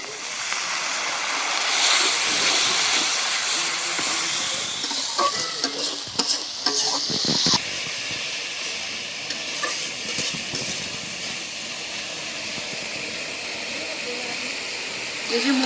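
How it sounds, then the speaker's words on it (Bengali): A spice masala of chili, coriander and cumin powders with a splash of water is fried and stirred in a pan: steady loud sizzling with scraping strokes, louder early, then settling into an even hiss. "একটু পানি দিয়ে দিই, মশলাটা আর একটু ভালো করে কষাই নিই।"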